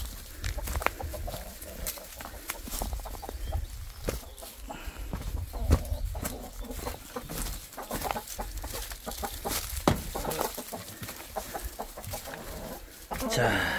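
Chickens of the green-egg laying Araucana type cluck and squawk continuously in a backyard coop as they are herded inside at dusk, with rustling, fluttering and occasional close, louder calls throughout.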